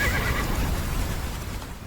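A flaming undead horse neighs in Red Dead Redemption: Undead Nightmare, a loud, close whinny with rough hoof-like clatter underneath, sustained throughout.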